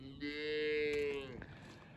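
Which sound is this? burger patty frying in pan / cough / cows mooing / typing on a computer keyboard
cows mooing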